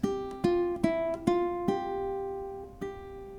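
Six bright strummed ukulele chords from a jazz piece ring out in an uneven rhythm, each strum sustaining and fading before the next, played solo and close.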